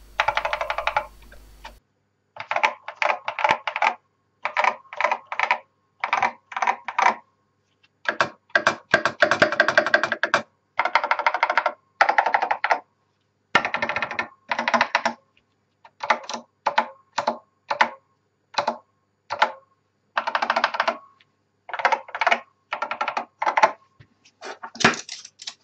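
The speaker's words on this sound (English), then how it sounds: "This is a Honeywell VIP 7251 terminal keyboard." Typing on a vintage Honeywell VIP 7251 terminal keyboard in museum-quality condition: crisp, clacky mechanical keystrokes in fast bursts separated by short pauses, close and clear with no talking.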